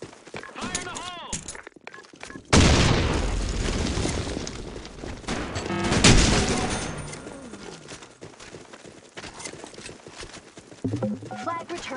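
A grenade explodes in an online shooter game with a capture-the-flag objective, a loud booming blast swelling and rumbling for several seconds amid gunfire and game announcer voices.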